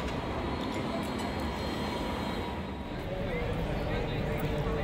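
A Sydney light rail train rumbles along steadily as a continuous loud roar, with murmuring voices mixed in nearby.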